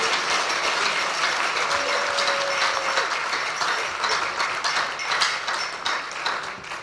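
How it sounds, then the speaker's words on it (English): Audience applause at the launch of a Ghana Premier League football partnership, a steady dense clapping that fills the room throughout, loud and close with no talk over it. "Can we clap for the party, please?"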